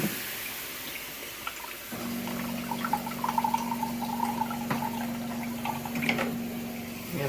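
Hot water poured from a glass into a pot of tomato soup, a steady close liquid stream with small splashes running for several seconds under a faint background hum.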